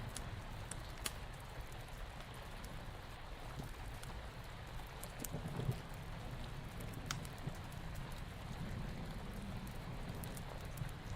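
Steady rain falls at night, a continuous dense patter with scattered sharper drops, even and moderately distant throughout.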